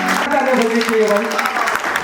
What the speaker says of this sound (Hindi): ताली होनी चाहिए भाई